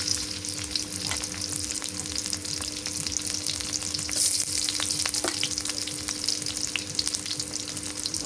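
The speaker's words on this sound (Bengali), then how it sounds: "পেঁয়াজ কুচি দিয়ে দিলাম" Chopped onion frying in oil in a pan, a steady dense sizzle with crackling spatter popping throughout, fairly loud and close, with no voices.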